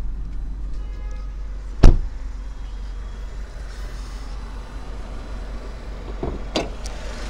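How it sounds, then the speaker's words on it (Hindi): The bonnet of a 2024 Tata Tiago XE hatchback is released and opened, giving one sharp, close latch thunk followed a few seconds later by a pair of lighter clicks over a low background hum. "तो इंजन के लिए यहाँ पे बोनट जो है यहाँ से ओपन होता है"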